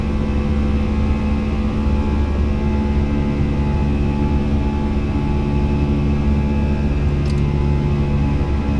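Airliner engines at climb thrust in Microsoft Flight Simulator, a steady loud roaring drone with layered tonal whine held constant throughout, no voices present.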